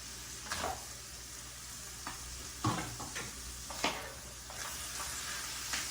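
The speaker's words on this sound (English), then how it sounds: "Those are sauteing up beautifully." Bell peppers and steak for Philly steak and cheese stuffed peppers sauteing in a pan, a steady low sizzle with several sharp spatula scrapes and clacks as it is stirred.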